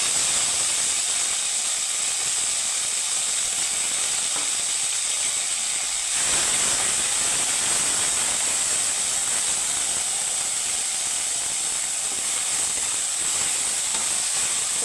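Boiled drumstick greens dropped into a pan of fried five-spice, giving a loud, steady sizzle and hiss that swells slightly partway through and continues without talk.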